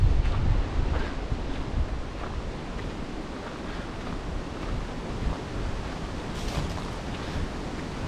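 Steady roaring wind buffets the microphone at an open campsite, a broad continuous rush with occasional gusts and no voices.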